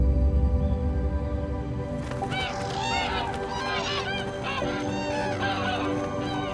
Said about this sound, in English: the geese turn east, flying into the plain from the plateau